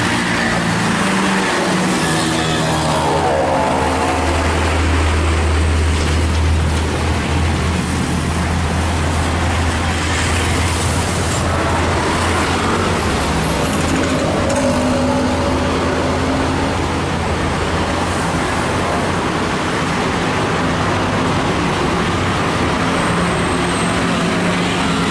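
A Sumber Jaya bus overtakes a truck on a straight road, with a loud, steady engine roar and heavy road rumble sustained throughout, close by and without any talk.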